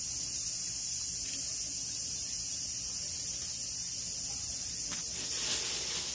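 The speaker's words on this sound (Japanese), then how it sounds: "夏の終わり、セミの声が聞こえます。" A steady, high-pitched drone of late-summer cicadas buzzing continuously in the background at Sanzen-in temple in Kyoto, fairly faint and unbroken throughout.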